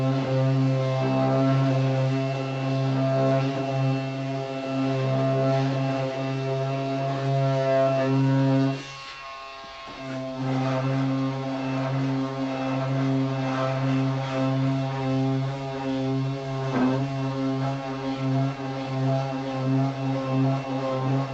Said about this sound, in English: Detail sander's a little